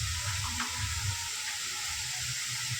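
Whole masoor lentils sautéed with garam masala and other spices in a pan, dhaba style, give a steady soft sizzle and hiss that runs evenly throughout, close and fairly quiet, with no voices.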